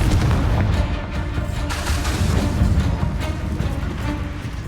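Hogwarts Legacy's Confringo blasting curse erupts in a continuous rumble of heavy booms and crackling bursts, loud and close, holding steady for several seconds without any talking.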